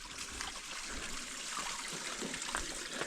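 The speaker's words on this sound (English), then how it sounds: "So there is water flowing after all." Water trickles and flows over rocks in a mountain creek in the Pine Valley Mountains, Utah, a steady, close, broadband wash that stays even throughout with no voices.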